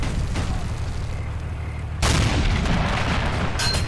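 Flak cannon and gunfire in the WWII strategy game Assault Squad 2, a steady low battle rumble that jumps to a louder, denser burst of booming fire halfway through, close and continuous with no talk.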